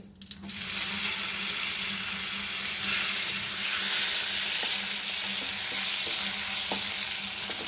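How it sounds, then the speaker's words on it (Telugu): Tempering spices and garlic fry in hot oil, a steady sizzle filling the whole stretch, with a few light clinks of a utensil and a low hum underneath; no one speaks. "పోపు దినుసులు కొంచెం వేగాక వెల్లుల్లిపాయలు వేసుకోవాలండి."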